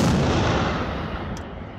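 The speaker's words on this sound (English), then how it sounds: "Army Recognition Defense Web TV team has also the chance to assist a live firing of one battery of NORA B-52." A NORA B-52 self-propelled howitzer fires live in a battery, giving one loud, heavy boom that rolls out and slowly fades over the next two seconds.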